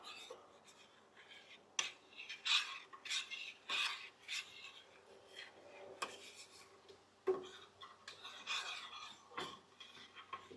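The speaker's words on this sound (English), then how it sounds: "we'll just give this a good thorough mix" Hot honey garlic sauce ingredients with minced ginger being stirred in a pan: quiet scraping and clinking of a utensil against the pan in irregular strokes, close by, with no talking.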